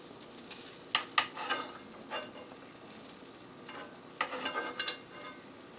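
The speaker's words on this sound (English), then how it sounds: "the cheese is starting to simmer here" Cheese simmers and sizzles on top of a corned beef and sauce mixture in a pan, a soft steady frying hiss broken by a few sharper crackling pops.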